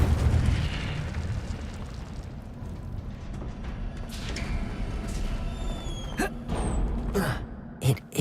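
An Incendio fire spell goes off in Hogwarts Legacy as a dense, roaring burst of flame, followed by sharp crackling pops and bright magical zings near the end.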